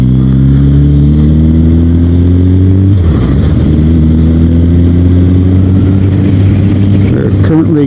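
A Suzuki Hayabusa motorcycle rides down Highway 175 off Cobb Mountain, its loud, steady engine drone mixed with heavy wind noise, with a shift in engine pitch partway through.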